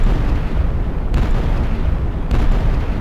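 A shotgun firing in an Unreal Engine 4 weapon test, two loud booming blasts with sharp onsets about a second apart, each followed by a heavy rumbling decay, close and dominant with no talk.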